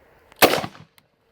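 A single sharp .44 Magnum gunshot fired at a Safariland Hardwire IIIA ballistic panel, one loud close blast with a short decaying tail, then quiet.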